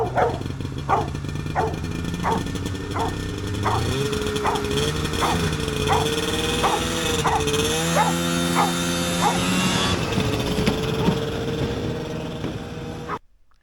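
Farley the dog barks excitedly in a steady string of about a dozen loud, close yaps over a vintage Polaris snowmobile engine droning and revving up alongside, with a brief whine near the end before it cuts off.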